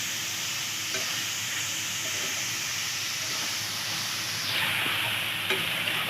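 Grated paneer for paneer bhurji sizzles steadily in a hot pan while being stirred, a continuous close hiss with soft scraping and no talking.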